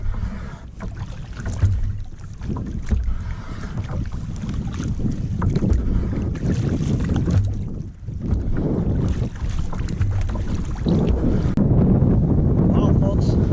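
Steady, loud wind buffets the microphone while out fishing from a boat on open water, with rumbling gusts that swell and dip throughout and a brief lull near the middle.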